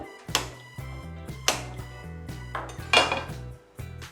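Metal cookware clanks against a stovetop while egg thokku is being cooked, a few sharp, close clinks and knocks spaced irregularly, with no talking.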